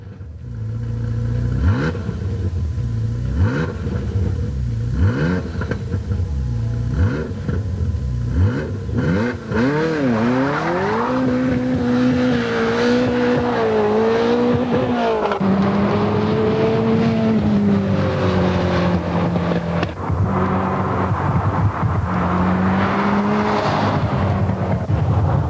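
A Ferrari F40 LM race car roars loudly and continuously, its engine revving up and down through rising and falling pitch sweeps with no other sound over it.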